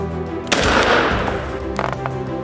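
A single gunshot rings out during a hunt, a sharp loud blast followed by a rolling outdoor echo that fades over about a second, with quieter noise around it.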